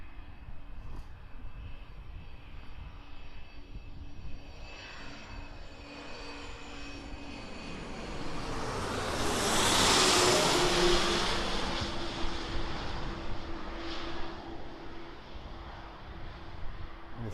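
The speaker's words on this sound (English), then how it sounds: "So we've got that little Embraer Phenom 300 in from Hamburg on short finals." An Embraer Phenom 300 jet on short final at Birmingham Airport, its engine roar rising from a distant hum to a loud rushing peak as it passes, then fading away.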